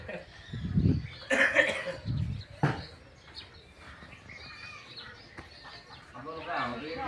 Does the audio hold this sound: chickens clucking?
yes